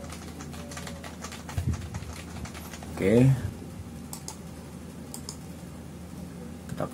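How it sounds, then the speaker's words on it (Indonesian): Fingers typing on the keyboard of a 2022 MacBook Pro with M2 chip, model A2338, producing soft, rapid clicks throughout, with a brief spoken word partway through over a faint background hum. "untuk keyboard bisa berfungsi nih"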